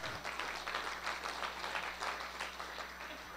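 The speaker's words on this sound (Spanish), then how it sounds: "¿No se merece un aplauso eso?" Audience applause at a Christian fellowship gathering, a steady wash of clapping from many hands that holds at a moderate level throughout, fairly distant, with no voices over it.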